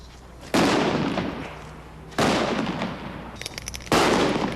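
A 12-gauge shotgun fires less-lethal beanbag rounds, three loud sharp reports spaced evenly about every one and a half seconds, each followed by a long decaying echo.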